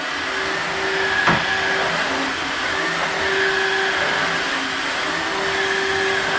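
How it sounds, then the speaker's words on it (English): A 2-in-1 vacuum mop sweeps and mops glitter off a floor at the same time, giving a steady, loud motor whine with a constant hum that runs the whole way through, plus one brief knock near the start. "this is sweeping the floor while it's mopping the floor"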